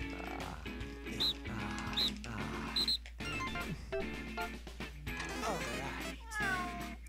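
Meows from a cat in the video game No More Heroes 2, several short cries scattered over busy game music and effects, with some talk mixed in.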